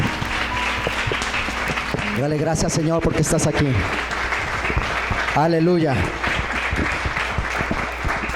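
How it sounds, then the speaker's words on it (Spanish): A church congregation keeps up loud, steady applause during a Sunday morning service while a preacher speaks and calls out over it. "bríndele un fuerte aplauso al Rey de Gloria en esta mañana"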